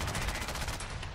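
A ship's cannon fires aboard the USS Constitution in the video game Fallout 4, a loud booming blast with rapid repeated thuds and rumble in a brief burst.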